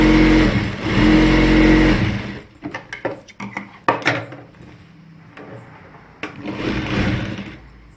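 A sewing machine stitching a salwar runs in a steady loud whir for about two seconds, then gives way to scattered clicks and handling knocks before a second run of stitching near the end.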